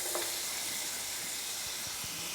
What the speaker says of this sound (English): We're gonna go ahead and get it added to the pan and start searing it